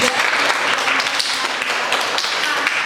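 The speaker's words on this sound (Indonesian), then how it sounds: "Oke, tepuk tangan buat kelompok 3." Audience applause after a group's classroom presentation, a dense, steady patter of many hands clapping throughout at constant loudness, with no talk over it.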